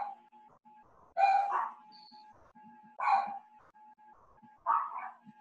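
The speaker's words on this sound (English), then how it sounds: "Somebody's got puppies." Puppies bark faintly in the background, with three short bursts of yappy barks spaced a couple of seconds apart over a steady electronic tone.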